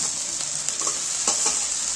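Fried potatoes and cauliflower sautéing in oily masala for Vetki fish curry, a loud continuous hissing sizzle with a few soft scrapes of a spatula stirring through the pan.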